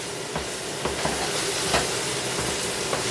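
Garlic and onions sizzling in a pan for a shrimp and grits dish, a loud, constant frying hiss with occasional stirring clicks and pops, no voices.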